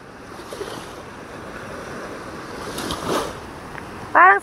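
Sea water washing around a small fishing boat on a calming sea, a constant low wash and wind noise with a swelling surge midway, then a brief burst of a voice at the end.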